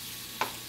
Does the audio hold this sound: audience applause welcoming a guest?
no